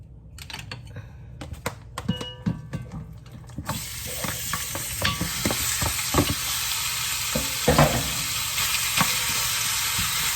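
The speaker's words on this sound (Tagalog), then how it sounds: "So lutuin po natin muna yung ribs." Marinated pork ribs, cut into large pieces, fry in a pan, starting with sparse pops and clatter before a loud, steady sizzle takes over and continues close up with occasional crackles.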